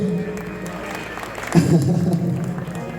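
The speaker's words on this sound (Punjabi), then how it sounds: "ਇਦਾਂ ਦੀ ਚੀਜ਼ ਸੁਣ ਕੇ ਤੁਹਾਨੂੰ ਵਧੀਆ ਲੱਗੀ ਤਾੜੀ ਮਾਰ ਕੇ" An audience at a live Punjabi music show breaks into applause partway through, clapping rising suddenly over a murmuring background, with a voice beneath.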